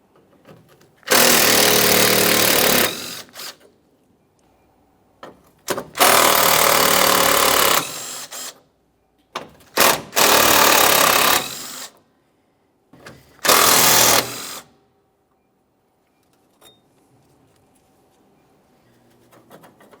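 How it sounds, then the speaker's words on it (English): A power tool loosens 10mm bolts on the bumper cover of a 2008–2017 Mitsubishi Lancer 2.4 in four loud, close bursts of about two seconds each, with quiet pauses between them and no talk. "so we're going to remove all 4 of those 10mm bolts as well"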